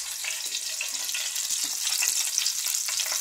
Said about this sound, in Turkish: üzerine nane yakmayacaksın mı? Yakacağım, kapattım.